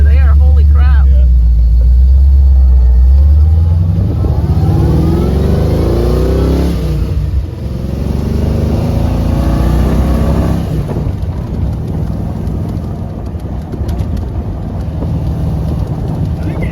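Old Jeep engine rumbling loud and close while driving, rising and falling as it revs through the gears, with people talking over it inside the cabin.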